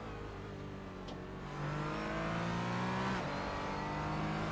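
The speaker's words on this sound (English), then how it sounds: "getting on the throttle nice and early, rotating the car a little through the exit phase of the corner" A Porsche Cayman race car at Circuit de Barcelona-Catalunya accelerates hard out of a corner, its engine note rising steadily and loud from onboard, with no voices.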